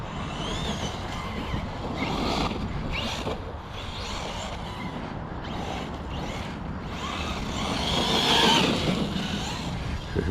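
An Arrma Nero RC monster truck drives around a park, its electric motor whining and surging in bursts over steady wind noise, moderately close, with a louder stretch of acceleration near the end and no talking.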